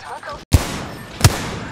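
Two sharp gunshots from an Apex Legends match, each a loud, punchy crack with a short tail, spaced about 0.7 seconds apart over a busy game background.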